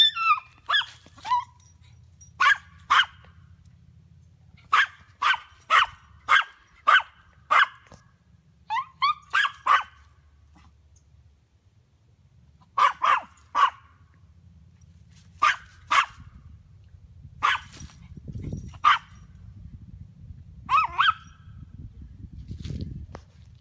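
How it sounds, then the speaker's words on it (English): Rat terrier barking in repeated bursts of sharp yaps, some quick runs of several barks, fairly close, with a low rumbling background and brief pauses between outbursts. "He's a rat terrier."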